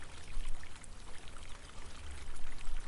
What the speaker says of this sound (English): A single hide is lowered into the water, its weight distributing slowly across the surface before sinking beneath.